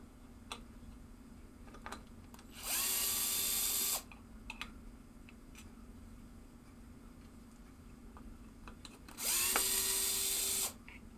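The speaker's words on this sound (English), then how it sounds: "now we will get the screwdriver" A power screwdriver backs screws out of a 1972 Williams Superstar pinball playfield, giving two loud whirring bursts of a few seconds each, separated by soft scattered ticks and clicks of handling.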